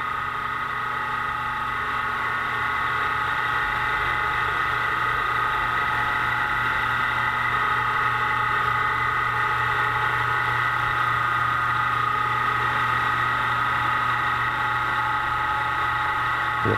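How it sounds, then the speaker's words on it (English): An electric motor drives a fan on an alignment test rig, giving a steady, continuous machine hum with a constant whine, running alone at a close, even level the whole time. "We'll turn off the motor"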